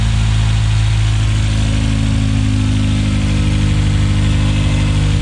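A turbocharged Toyota Starlet 4E-FE engine idles steadily after a first test start, a loud, close, continuous drone with a strong low hum and faint whine, no one speaking.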